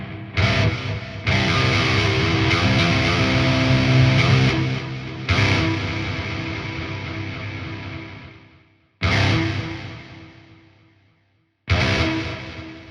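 Distorted electric guitar through a Rectifier amp sim plugin with delay, playing sustained chords with echoing repeats, stopping abruptly several times and ringing out in short bursts.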